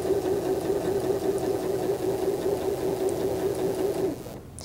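Sewing machine running a steady backstitched edge stitch along a facing, a continuous close mechanical whir with a constant hum that stops just before the end.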